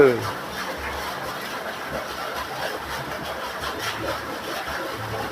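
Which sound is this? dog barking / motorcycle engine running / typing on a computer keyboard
motorcycle engine running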